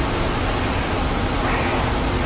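Steady, broadband jet engine roar of a MiG-15bis fighter in the DCS flight simulator, with airy rushing wind, constant and loud throughout with no pauses.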